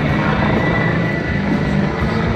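A BO-105 helicopter flying aerobatics at an air show gives a loud, steady rotor and engine drone, close and continuous, with no talk over it.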